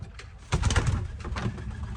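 Pigeons coo in low, rumbling bursts close by, the calls swelling after a quiet start and continuing steadily over faint background noise.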